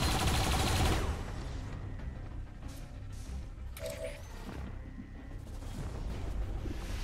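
Gunfire from the XCOM 2: War of the Chosen strategy game, a loud burst at the start followed by quieter game ambience with a few faint tonal effects.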